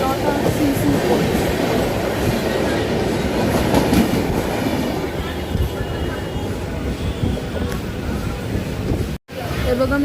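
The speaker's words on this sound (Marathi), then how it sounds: "आपली जनशताब्दी आपली स्पीड वाढवत आहे. एक्सेलरेट करते" A Jan Shatabdi Express train picks up speed, its loud steady rumble and rhythmic clickety-clack of wheels on rail filling the cabin from start to finish.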